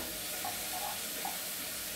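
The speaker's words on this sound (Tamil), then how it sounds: "இது இந்த நெய்யில் கொஞ்ச நேரம் வதங்கணும்." Basmati rice sautéing in ghee gives a steady, soft sizzle with faint stirring scrapes, close and continuous with no talking.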